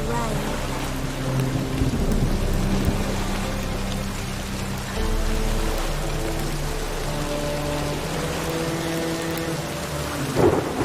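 Steady rain pours throughout while thunder rumbles low and heavy, with a sharper crack near the end, set under a soft sustained musical drone, in the video game The Witcher 3: Wild Hunt.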